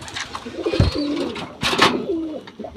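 A Salara Teddy cock and a Prince Kamagar hen coo nearby in two rolling, throaty bursts, loud and close.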